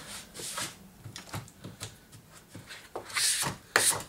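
Wood on an arcade cabinet being trimmed by hand, a series of short rasping, rubbing strokes at an irregular pace, close and fairly quiet, growing louder and scratchier toward the end, with no voices.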